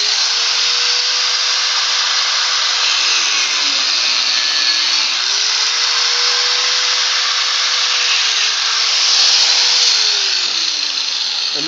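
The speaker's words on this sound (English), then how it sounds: "And Tiff, you want to hand me that grinder? I'll show them what I mean by the cutoff wheel." A die grinder fitted with a thin cutoff wheel cuts metal during a Ford Model T C-cab delivery truck build, giving a loud, continuous high-pitched whine that dips and recovers in pitch as the wheel bites, heard alone throughout.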